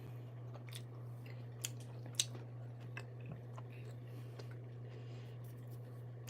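Fruit snacks are chewed quietly close to the mic, with scattered soft wet clicks and small squishes at uneven intervals over a low steady hum.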